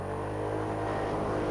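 A scooter engine accelerating, a steady raspy buzzing drone heard close and fairly constant, with no voices over it.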